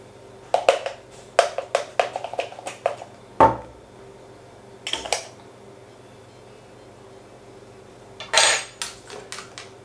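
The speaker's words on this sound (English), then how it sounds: "Give it a quick stir." An indigestion and wind remedy stirred in a glass with a spoon: quick bursts of light metallic clinks and rattles, close and clear, separated by quiet pauses and followed by one last flurry.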